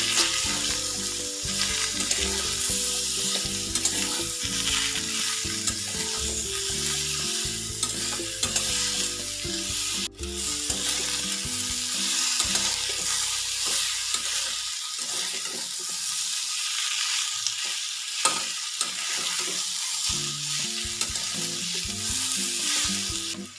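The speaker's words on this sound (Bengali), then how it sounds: "আলু আর মূলো মোটামুটি ভাজা ভাজা হয়ে যাচ্ছে।" Radish and potato pieces fry in a pan with turmeric and salt, a dense continuous sizzle with stirring scrapes, close and steady throughout.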